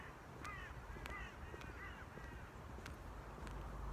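Crows caw several times in an autumn outdoor setting in Aberdeen, the calls distant and spaced apart over steady ambient noise.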